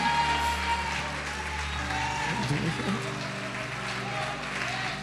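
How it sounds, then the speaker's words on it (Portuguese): A church congregation applauds and praises during a sermon, a steady wash of clapping with sustained tones and voices underneath, moderately loud and continuous. "Pode aplaudir, glorificar"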